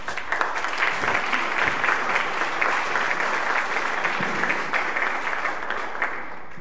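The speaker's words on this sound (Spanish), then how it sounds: "Un aplauso," Audience applause at an academic colloquium, a continuous wash of many hands clapping through the whole stretch, even and fairly loud, easing slightly at the very end.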